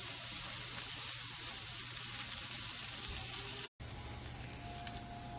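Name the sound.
sweet onions and vegetables charring in a pan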